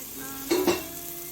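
Chilli flakes cheese chicken frying in a pan, a soft sizzle with two brief louder stirring scrapes in the middle over a faint steady hum.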